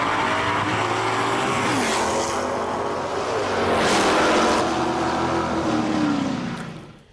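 A Plymouth Superstock drag race car roars past at a Lyons, Indiana drag strip, its loud engine note sweeping up and down in pitch as it passes and fades off at the end.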